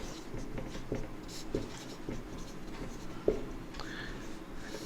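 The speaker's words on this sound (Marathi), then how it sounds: "आता जे खाली आपण लिहितोय ते" Chalk or marker taps and scratches against a board in a quiet room, with a few sharp strokes spaced irregularly and one louder knock near the end.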